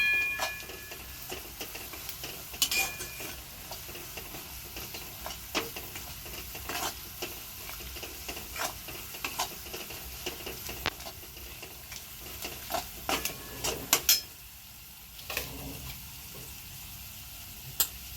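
Onion, turmeric and Kashmiri red chilli powder sautéing in oil in a pan, a steady low sizzle broken by frequent close scrapes and taps of a spoon, the frying fading quieter near the end.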